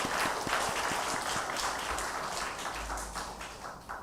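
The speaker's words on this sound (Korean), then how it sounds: "우리 격려의 박수를 한번 보내드리도록 하겠습니다." A church congregation at Sunday worship claps in encouragement, a full round of applause with some distinct close hand claps near the start, steady and then gradually thinning.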